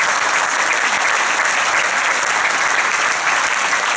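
Audience applause at a political rally in Ducey, a dense, even roar of many hands clapping together, loud and sustained throughout without speech.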